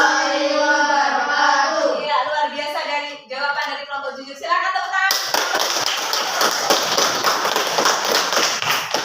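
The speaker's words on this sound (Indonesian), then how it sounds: "Silakan tepuk tangan." Classroom group claps after a student group's presentation; the first half is voices speaking in unison, then a burst of steady, fairly loud clapping from a nearby audience continues to the end.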